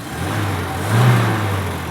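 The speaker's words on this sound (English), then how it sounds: "you could see and hear it's super nice and smooth and equilibrated engine" Peugeot 505 SR engine, a smooth, balanced classic unit, held at a steady hum with a brief gentle throttle blip midway. Close and continuous, with no talking.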